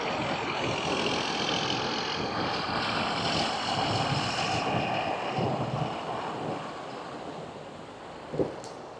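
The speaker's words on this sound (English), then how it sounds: "I've got a tractor coming down now" A tractor travels along a country lane near Coughton Ford in Warwickshire, its broad engine rumble steady and fairly close before gradually receding and fading, with a brief knock near the end.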